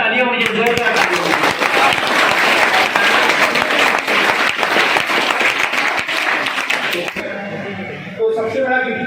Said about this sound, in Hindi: जोरदार तालियां मुझे, जोरदार तालियां।